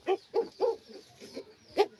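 Pigeons at a farm give a series of soft, low, rounded coos, about six short calls in a loose rhythm, close by and otherwise quiet.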